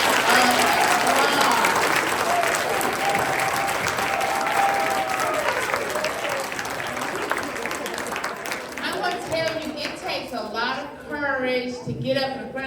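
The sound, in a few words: audience applause for spelling bee participants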